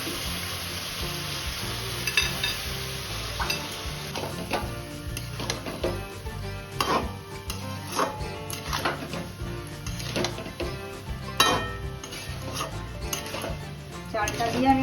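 Ingredients frying in a pan for coconut chicken pulao: a constant sizzle broken by repeated scrapes and clinks of a utensil against the pan, with no voices.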